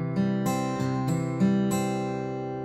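Acoustic guitar fingerpicked in a root 4-3-2 pattern, several distinct plucked notes over a sustained ringing chord, close and clean with no talk.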